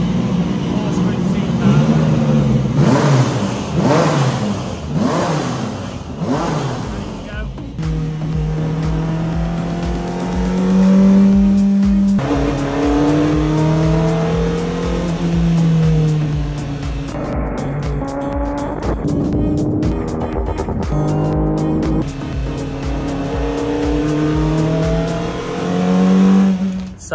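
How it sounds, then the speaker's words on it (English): An air-cooled Porsche Group C race car starts up behind a garage, its engine loud and close, revving up and down in repeated surges with sharp blips between sustained tones. "The Porsche is just starting up now in behind the garage. And this is an air cooled Porsche"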